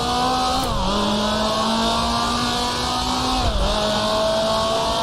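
A Formula 2 race car in the Grand Prix Legends game, set at Goodwood in 1966, drones loudly and steadily at high revs, with two gear shifts or dips in pitch as it slows for a chicane in first gear.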